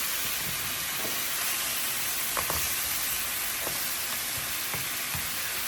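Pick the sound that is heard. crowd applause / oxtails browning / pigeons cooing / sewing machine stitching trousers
oxtails browning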